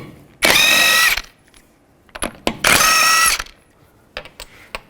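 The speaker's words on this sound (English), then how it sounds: "Take a 21mm socket, remove the wheel." A ratchet fitted with a 21mm socket spins wheel nuts off a 2005-15 Nissan Xterra in two long, loud buzzing runs, with brief clicks and taps between them.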